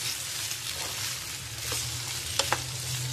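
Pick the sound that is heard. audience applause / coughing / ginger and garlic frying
ginger and garlic frying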